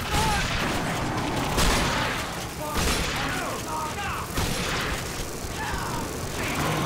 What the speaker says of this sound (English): A sniper shotgun.